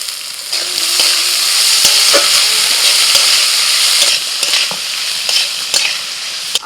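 Peas, onion and tomato frying with mixed vegetables in a pan, a steady loud sizzle with scattered crackles and occasional stirring scrapes throughout, no talking.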